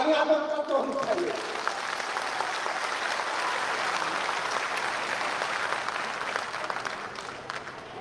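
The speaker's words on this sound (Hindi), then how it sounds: "एक जोरदार तालियां तो होनी चाहिए।" A crowd applauds steadily at a Samrat Ashok Jayanti event, a sustained wash of clapping that follows a brief voice at the start and holds at even loudness.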